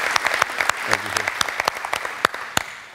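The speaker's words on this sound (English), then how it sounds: "and let's give them a big round of applause." A congregation at a men's celebration gathering claps for first-time visitors, a moderate patter of applause with sharp nearby claps standing out, a brief voice underneath, and the clapping fading as it ends.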